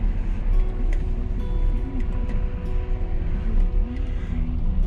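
A car rolls slowly around the back of a saw mill, a steady low engine drone and road rumble throughout, with occasional light ticks and clicks over the top.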